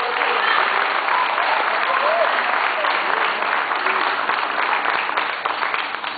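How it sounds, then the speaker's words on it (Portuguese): A church congregation applauds steadily during a worship ministry service, a dense wash of clapping with voices mixed in, fading slightly toward the end. "Pode aplaudir, irmão"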